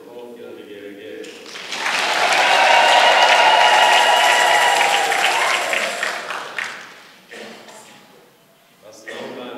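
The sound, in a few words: congregation applause and ululation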